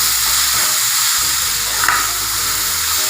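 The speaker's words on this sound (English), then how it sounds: "Remember, we cook the cabbage in high flame." Cabbage for Kerala-style thoran fries on a high flame with a loud, continuous sizzling hiss, broken by a few stirring scrapes and one brief clatter.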